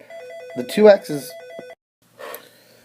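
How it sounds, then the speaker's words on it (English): A telephone rings with a repeating electronic warble while a person speaks over it, followed by a brief pause and another short burst of sound. "Sorry about the phone."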